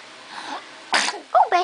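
A 4.5-month-old baby sneezes indoors in a sharp, close burst, followed by small vocal sounds from the baby.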